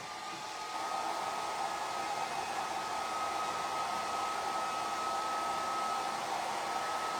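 A hair dryer runs steadily and close, drying freshly applied chalk paint on a craft piece, its even whooshing hum with a faint whine holding without pause after a brief start.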